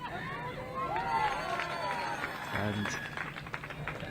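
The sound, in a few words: Swiss supporters cheering at a touch rugby match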